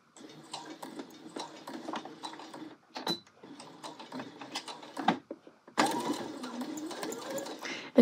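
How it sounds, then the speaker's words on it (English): A sewing machine stitches the last corner of a jacket welt, sewing through the welt, the jacket body and the pocket seam allowances. Close, rapid stitching runs in short bursts with brief pauses between them. "we're going to sew this last corner of the welt, making sure everything is really smooth"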